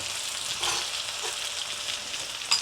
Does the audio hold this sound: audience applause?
no